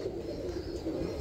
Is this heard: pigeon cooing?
yes